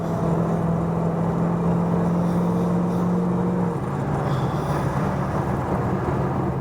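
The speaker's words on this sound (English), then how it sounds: "Step it on it again here for you so you can see it go" A 1934 Ford Coupe engine revving as it accelerates, giving a loud, continuous rumbling roar with a steady low drone that eases slightly partway through.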